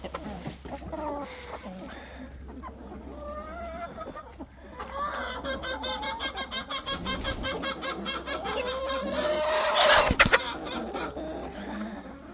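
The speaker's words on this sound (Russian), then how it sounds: "Вот эта курочка, вот что сейчас ест" A hen clucks softly while eating at a country farmyard, with other fowl calling nearby and people talking over it throughout.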